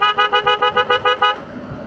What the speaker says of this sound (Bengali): এটা কিন্তু একটা কারের হর্ন লাগাইছে খুব সম্ভবত